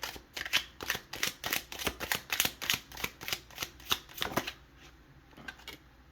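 Galactic heritage oracle cards being shuffled by hand, a quick run of about a dozen crisp riffling bursts in steady rhythm, close and clear, then a softer tail with no talking.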